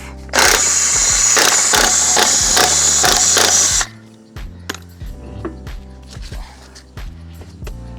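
An impact wrench rattles loudly in short rapid bursts for about three and a half seconds, taking a wheel off a 2003 Ford F-350 truck. Quieter clinks and handling sounds follow.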